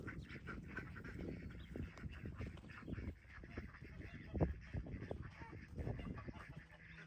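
Ducks quack and honk in short irregular bursts close by, fairly faint, with a quiet voice now and then.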